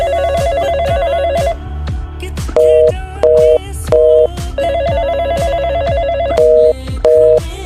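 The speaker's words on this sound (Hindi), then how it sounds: "ये फोन क्यों नहीं उठा रही?" A telephone rings on and on with no answer: a loud, steady electronic ring pattern that repeats in bursts with short gaps, heard alone with no voices.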